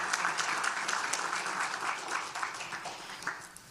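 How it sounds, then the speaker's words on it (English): A crowd gives another round of applause at an adult basic education graduation ceremony, a continuous mid-level patter of many hands with a few sharper individual claps, tapering slightly near the end. "One more round of applause for Michelle Trelstad."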